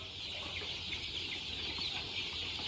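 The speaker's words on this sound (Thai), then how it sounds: "นี่เขาเรียกว่าไก่สามสายเลือดครับ" Three-blood crossbred chickens clucking softly in a pen, a faint steady murmur of fowl sounds over constant background hiss, no voices.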